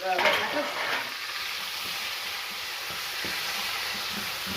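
Chopped roasted red peppers dropped into hot oil in a pan on a hob at medium heat, with a burst of spattering at the start settling into a steady, even sizzle that continues alone, close up.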